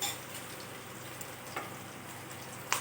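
An egg frying in hot oil in a pan with fried onions, a soft, steady sizzle heard alone at low level.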